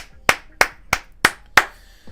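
Five sharp, evenly spaced hand claps ring out in a steady rhythm, close and clear, with no voices.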